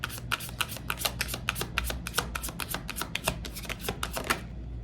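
Tarot cards shuffled continuously in a rapid, crisp riffling patter that stays close and steady for several seconds, with no voices.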